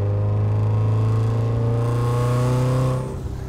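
A 600HP Subaru STI with a straight-piped exhaust pulls hard in fourth gear on the street, a loud, close, rising engine roar that holds for about three seconds and then drops away sharply as the throttle lifts.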